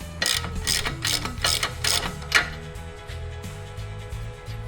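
Rapid ratchet clicking as a hand tool works on the upper ball joint of a Ram 1500 front suspension, quick bursts of mechanical ticks followed by a metallic clank, close and clear.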